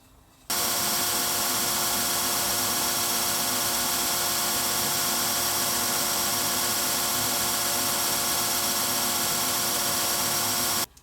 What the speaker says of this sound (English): I'm going to take this over to the belt sander, and we are going to shape each one of these corners